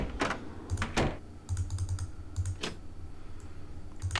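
Keys on a computer keyboard in a haunted-carousel video game clack in quick irregular bursts, close and crisp, with short pauses between clusters and no talking.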